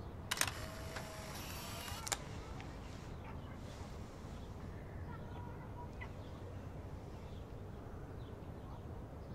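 A camera shutter goes off as a selfie is taken in the video game Life is Strange: a sharp mechanical click-and-whir burst near the start, then a quiet, steady in-game ambience.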